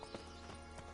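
Horse hooves clip-clop at a steady walking pace in The Witcher 3 video game, faint and close, with a low ambient hum and no talk.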